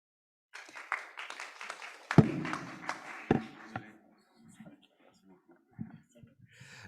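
An audience at a conference on sustainable investment and corporate responsibility applauds a speaker: a burst of clapping that swells, peaks with a few sharp claps, then thins to scattered taps and quiet murmuring voices.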